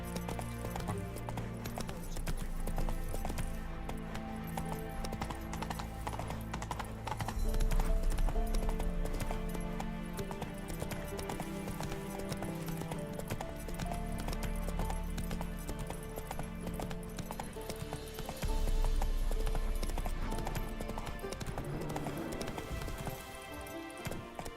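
Geralt's horse Roach galloping in The Witcher 3, rhythmic hoofbeats running steadily for a long stretch under game music, swelling louder at moments.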